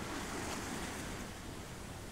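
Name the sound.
rising wind and waves on water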